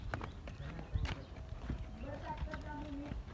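Horse hooves clip-clop in a steady walking rhythm close by, with voices talking over the clattering steps.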